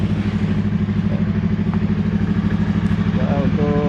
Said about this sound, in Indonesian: Setelah kelistrikan normal baru mesin hidup.